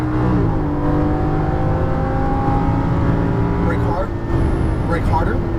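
Lamborghini Gallardo LP550-2 pulling hard at full power on a racetrack, its loud engine note climbing steadily in pitch as it accelerates, with a driving instructor's voice over it.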